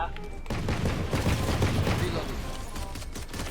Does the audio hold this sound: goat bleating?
no